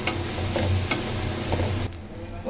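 Vegetables and beans stirred and frying in a pan, a steady close sizzle with occasional scraping stir strokes, loud and unbroken before it drops off briefly near the end.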